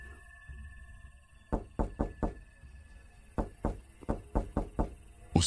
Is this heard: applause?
no